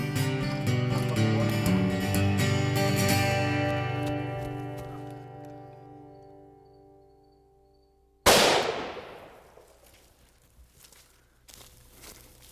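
A single loud, sharp gunshot while hunting in Texas cracks out suddenly after a stretch of fading music and decays with a short echo.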